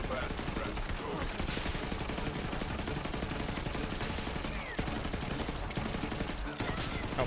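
Gunfire in Borderlands 3, dense and continuous bursts of shots and impacts layered over game action, loud and sustained across the whole stretch with only brief dips.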